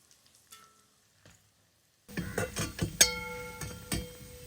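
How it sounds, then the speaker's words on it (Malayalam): Chicken pieces fry in hot oil for a Kerala-style chicken pickle. After about two seconds of near silence, a close sizzling bursts in, mixed with a few sharp metallic clinks of a utensil against the pan. "അപ്പോൾ നമ്മുടെ ചിക്കൻ ദേ നന്നായിട്ട് ഫ്രൈ ആക്കി ഇട്ടിട്ടുണ്ട്"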